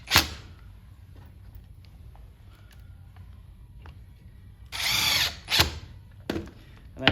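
A power drill pre-drilling holes in a wooden folding chair, with a loud close whirring burst of about a second, then a shorter one, plus scattered clicks and knocks of handling the wood in an otherwise quiet workshop.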